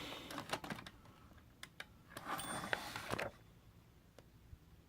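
Keys of a Corona Model 3 folding portable typewriter strike in a quick irregular run of sharp clacks, close and fairly quiet, with a denser flurry midway before it thins to a few isolated taps.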